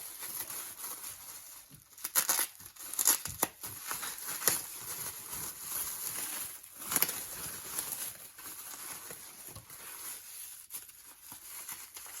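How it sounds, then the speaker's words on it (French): A package wrapped in several layers of protective packing being pulled open by hand, with intermittent crinkling, tearing and rustling bursts at close range and no talking. "je suis en train de galérer à enlever la quintuple protection"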